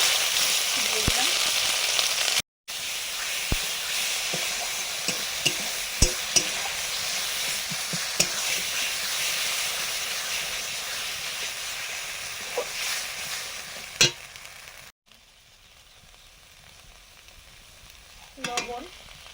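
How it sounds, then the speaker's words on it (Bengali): Ground bean paste frying in mustard oil with nigella seeds, green chilies and garlic in a wok, stirred with sharp scraping clicks over a steady loud sizzle that drops quieter toward the end. "শিম বাটাটা কড়ায় নাড়বো।"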